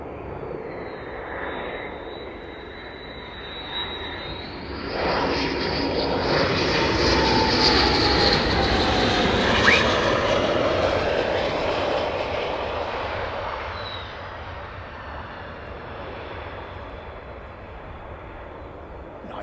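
Fighter jets of the 48th Fighter Wing give off a loud, broad engine roar that builds sharply after a high whine, peaks for several seconds as one passes close, then fades back to a lower rumble.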